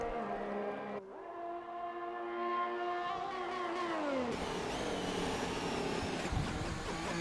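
A racing car engine on a flying lap in a racing game. It revs high with a tonal whine that climbs, drops at a gear change, then climbs again before falling away around the four-second mark.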